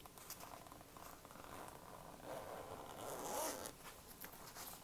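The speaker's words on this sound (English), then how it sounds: "Let's unzip the sleeping bag." A zipper is drawn open along a soft Care Bears sleeping bag, giving a steady rasping zip that runs for several seconds, close and moderately quiet, with no talking.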